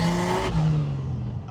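A cheap turbocharged Jeep straight-six with an exhaust needing repair revs hard up close, then drops in pitch as the throttle eases into a throaty drone.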